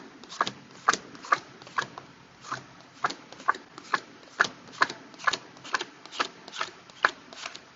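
Playing cards being handled and counted, each card dealt with a crisp snap or flick in a steady, close rhythm of about two per second, with no voice over it.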